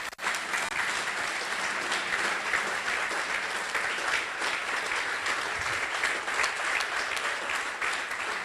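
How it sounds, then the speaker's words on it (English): A standing church congregation gives a long, dense wash of applause that holds steady and unbroken, filling the room at a constant level with no talking over it. "please stand up and give the church an applause"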